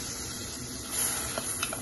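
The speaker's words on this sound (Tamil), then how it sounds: "சேர்த்துட்டு நல்லா வந்து சாட்டே பண்ணி விட்டுருங்க" Beans and sweet corn sauté in melted butter in a pan for sweet corn soup, giving a steady close sizzle throughout with a few soft stirring clinks near the end.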